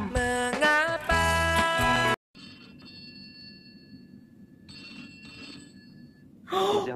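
A telephone rings in a 1987 Indonesian film, with short bright bursts of electronic ringing after a stretch of music, and quiet room sound between the rings.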